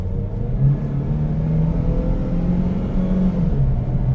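A Chevrolet Sonic 1.6 LTZ accelerates, its engine rumbling steadily loud and close with a rising mid-range drone throughout, no voices present.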